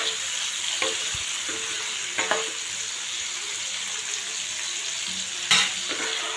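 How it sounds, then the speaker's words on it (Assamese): Bitter gourd (karela) frying in a pan, cooked dhaba style with green chilli and garlic, sizzles steadily while a spatula stirs now and then, with a few distinct scraping clinks, close up and with no talk. "মাজে মাজে এনেকৈ লৰাই থাকিব লাগিব যাতে জ্বলি নাযায়"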